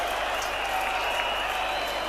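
Cricket crowd at a 1990 West Indies versus England Test match applauding a boundary shot by Viv Richards, a steady broad wash of clapping that holds at an even level throughout.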